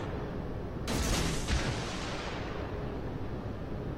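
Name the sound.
warship main guns firing a salvo in World of Warships video game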